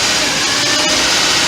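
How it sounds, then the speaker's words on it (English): A car engine idles close by, producing a steady, even rumble and hiss with no change in speed and no voices. "have key on, engine running at idle speeds"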